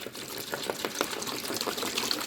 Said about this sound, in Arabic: هننزل بالمية بتاعتنا